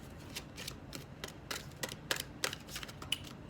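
Tarot cards shuffled close up, a quiet run of crisp clicking and snapping card flicks at an irregular rhythm with no voices.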